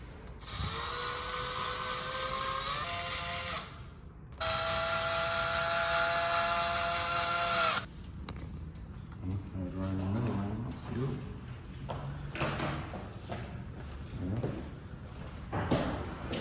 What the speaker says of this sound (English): Put the first screw in, and then you can always adjust it height-wise whenever you get the second one in.